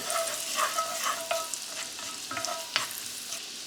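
Shallots sauté with mushrooms in a pan for a French chicken dish, a soft continuous sizzle broken by light utensil clicks and stirring taps, heard up close without speech.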